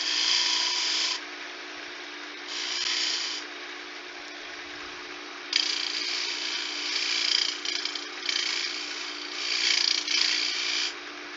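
A wood lathe spins a coaster blank while a traditional turning tool makes a twist cut, giving a steady motor whine broken by bursts of hissing, scraping cutting noise that come and go.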